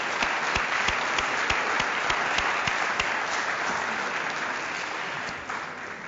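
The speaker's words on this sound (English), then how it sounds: "I think they deserve a round of applause for the effort and hours they put in." Sustained audience applause at a closing-remarks event honoring a support team, dense steady clapping from a large crowd that holds loud throughout, easing off slightly near the end.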